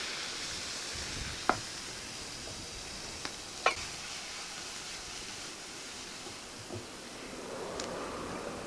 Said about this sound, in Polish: A na patelni przysmażę teraz warzywa.